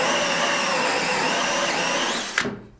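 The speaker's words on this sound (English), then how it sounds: "I'm just drilling the hole for the shower drain" Power drill boring a hole for a shower drain during DIY bathroom plumbing, a steady loud whine running continuously, then cutting off abruptly with a short clunk near the end.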